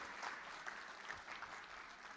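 Conference audience at a DevOpsDays opening keynote clapping, a short, dense burst of applause from a hall full of people, fairly faint and with no talk over it.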